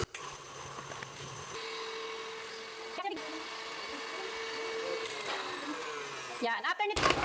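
An electric hand mixer beats butter cookie dough with an egg, a steady close whirring whine that shifts pitch as the beaters work, briefly stopping and restarting, with a voice talking over it.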